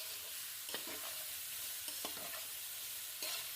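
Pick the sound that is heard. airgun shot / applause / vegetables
vegetables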